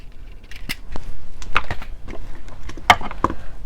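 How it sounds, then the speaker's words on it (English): Cutting 20 gauge beading wire into short pieces with a cutter, sharp snipping clicks spaced irregularly, close and fairly quiet, with no voices. "we're going to take the 20 gauge wire and cut 2 3 to 4 inch pieces"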